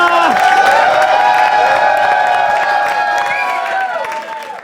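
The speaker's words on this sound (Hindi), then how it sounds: "जोर से ताली बजाएंगे, जोर से give it up for Manoj Verma." Audience at a stand-up comedy show applauding and cheering for comedian Manoj Varma, a dense, steady wash of clapping and crowd noise that carries on loudly throughout and eases slightly toward the end.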